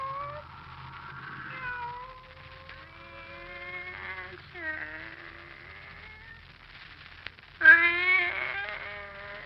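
Kitty, a pet cat, gives a series of drawn-out, wavering meows, fairly close, ending with a louder, sharper cry; no speech is heard.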